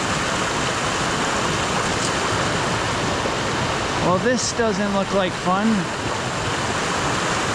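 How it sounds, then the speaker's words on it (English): Fast-moving stream water on the Appalachian Trail rushes in a loud, steady roar throughout, with a person briefly speaking over it partway through. "The water is moving so fast."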